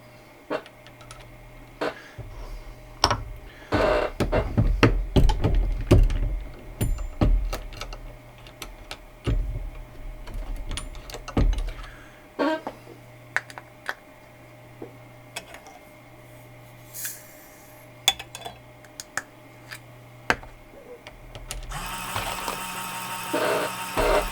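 Reloading 300 Win Mag ammunition on a Redding T7 turret press produces irregular metallic clicks, clacks and handling knocks close by, with a dense flurry of mechanical operation early on and sparser clicks later.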